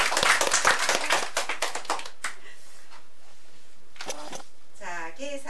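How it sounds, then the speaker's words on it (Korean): A small crowd claps at the opening of a craft art association's 16th members' exhibition in a Jinhae gallery: about two seconds of crisp, close applause, then scattered claps and a speaking voice. "제16회 회원 정기전을 축하하는 의미로 박수 한번 치겠습니다."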